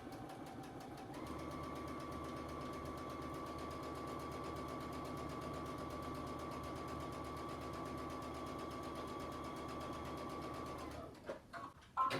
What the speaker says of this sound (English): So we're going to actually sew to this first green mark, back stitch, keep on sewing, back stitch, and sew to the end.